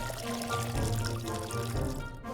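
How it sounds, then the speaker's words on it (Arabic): Water is poured in the Schedule I video game, a steady, fairly close splashing pour lasting about two seconds with no one talking. "دلوقتي هو محتاج ميه، استنى بس نعبي ميه"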